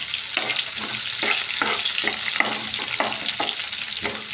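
Chopped onion sautés in a pan for a ridge gourd curry, with a steady frying hiss and sizzle broken by regular scrapes of a stirring spoon, close and continuous without speech.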